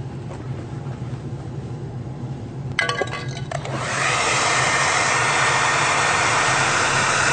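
A hair dryer blows on a dented car body panel, a steady airy roar starting faint, then after a brief rattle swelling abruptly to a loud, continuous rush close by.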